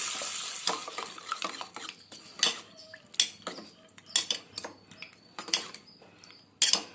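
A spoon stirs coriander, turmeric and salt into a cooking pot, clinking and scraping against the metal in quick, uneven strokes close by, with no talking.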